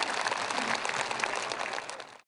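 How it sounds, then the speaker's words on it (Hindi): Audience applause welcoming Professor Dhumal at a spiritual gathering in Hamirpur, Himachal Pradesh: a dense, steady wash of many hands clapping at even loudness, fading out abruptly near the end. "सभी मिलकर प्रोफेसर धूमल साहब का अभिनंदन करेंगे, स्वागत करेंगे तालियों के महास्वर में"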